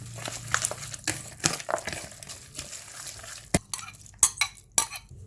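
Glass noodle salad is tossed and mixed in a bowl: irregular soft slaps, wet rustling and a few sharp clinks of utensils against the bowl, close and alone.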